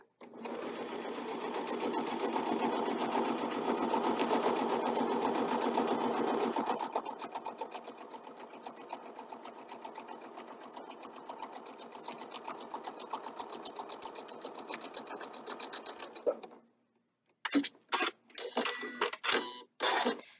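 A sewing machine stitches a quarter-inch seam down the side of a quilt block for a table runner, running loud and fast, then slowing to a steadier hum before stopping. A few sharp mechanical clicks follow.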